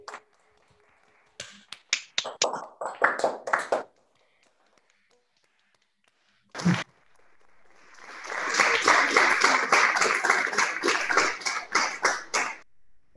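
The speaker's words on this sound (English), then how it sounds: "Let's just give these guys one more round of applause." At an online thesis presentation, remote attendees give scattered, close claps and snaps, then a quiet pause, then a longer burst of dense clapping that ends abruptly.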